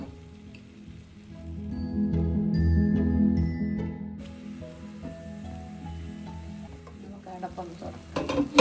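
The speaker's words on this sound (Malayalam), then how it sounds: "ഇതെല്ലാം കൂടെ നല്ലപോലെ ഒന്ന് വഴറ്റാം." Onions and spinach with salt are stirred in a pan for a spinach chicken curry, a soft sizzle with scraping of a utensil against the pan and a few sharper clinks near the end.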